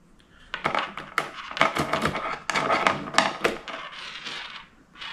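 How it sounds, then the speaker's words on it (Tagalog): A key turns in the lock of an acrylic display case for diecast cars, giving a run of close, sharp plastic clicks, taps and rattles with a few brief pauses. "Working naman yung kanyang susian."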